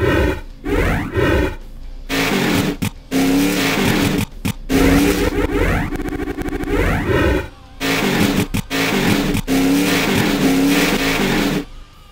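Menu sounds from the PS1 racing game NASCAR 2004 play as loud roaring stock-car engine revs and whooshes in several bursts with short silent breaks between them, and nobody speaks.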